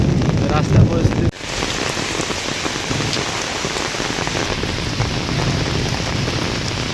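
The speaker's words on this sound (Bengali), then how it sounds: "প্রায় 2-3 দিন ধরে বৃষ্টি, প্রচণ্ড বৃষ্টি হচ্ছে।" Heavy rain pours steadily in Bangladesh during days of stormy weather, a dense, continuous roar of drops hitting surfaces at close range, with a brief dip in level early on before the downpour carries on unbroken.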